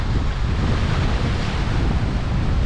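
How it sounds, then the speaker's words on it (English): Strong wind buffets the microphone on the Cardiff foreshore beside the Bristol Channel, a steady roaring gust with surf wash underneath, loud and unbroken throughout. "They said it was only going to be about 13 mile an hour the wind today, but it's more than 13 mile an hour."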